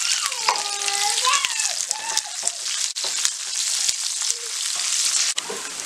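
Urad dal, chana dal, curry leaves and onions fry in a pan for a potato fry, giving a steady close sizzle with stirring scrapes and faint higher squeaks throughout.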